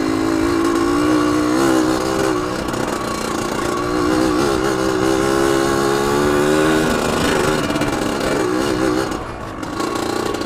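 A Yamaha RX Spesial two-stroke motorcycle, locally called Jet Darat, on a test ride: a loud, buzzing engine revving lightly up and down in smooth waves with constant wind and road noise throughout.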